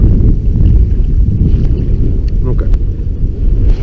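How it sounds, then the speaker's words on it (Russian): Loud, steady north wind buffets the microphone in heavy low rumbling gusts beside a river with waves, a watery, boat-like wash underneath and no pauses. "Ветер так и не собирается утихать. Дует северный ветер."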